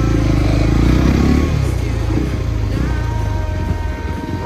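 A KTM 390 motorcycle creeps through thick mud, its single-cylinder engine thumping loud and close at low revs, easing off slightly after a brief stronger pull, with no speech.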